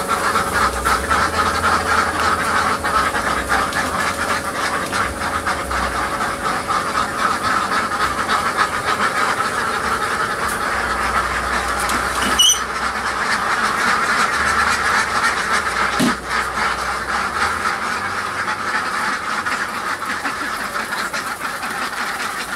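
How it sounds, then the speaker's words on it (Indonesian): Ducks quack continuously on an egg-laying duck farm, a dense, steady chorus of many birds with no voices over it. "Kita sudah melihat peternakan bebek milik Mas Puri, mantan TKI Korea Selatan."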